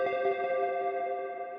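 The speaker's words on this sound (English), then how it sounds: "it's just like this simple kind of pluck with a bit of echo and a bit of reverb" A simple synth pluck from Ableton Operator with echo and reverb rings out as one bright harmonic tone, its repeats smearing into a sustained wash that slowly fades over a second and a half, with nothing else present.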